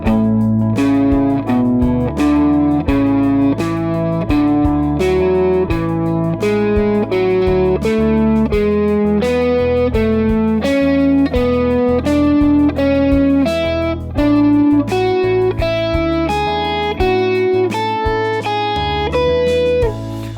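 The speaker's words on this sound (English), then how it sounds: "if I play through the whole entire scale pattern, it'll sound like this" An electric guitar with effects plays a steady run of single notes up and down a whole scale pattern over a backing track, continuous and fairly loud.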